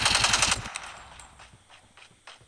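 Rapid automatic gunfire from the Call of Duty Mobile video game, a loud dense burst for the first half-second or so, then it cuts off, leaving faint scattered shots and game noise.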